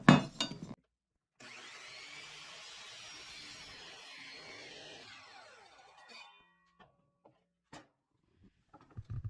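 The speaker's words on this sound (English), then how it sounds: "And I'll get this over to the miter saw." A miter saw cuts through a 2x6 wood board, starting with a sharp spin-up and then holding a steady grinding whine for about five seconds. It winds down and is followed by a few light knocks of handling.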